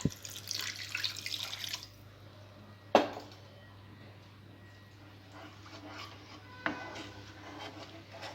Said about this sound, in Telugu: గ్రేవీకి సరిపడా వాటర్ కూడా వేసుకోవాలి.